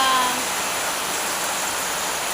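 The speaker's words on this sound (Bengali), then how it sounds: "আমাদের দিকে তো প্রচণ্ড বৃষ্টি পড়ছে" Heavy rain falling outside a home, a loud, close, unbroken hiss of downpour that holds steady from start to finish.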